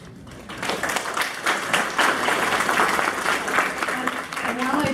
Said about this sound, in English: while I appreciate the applause support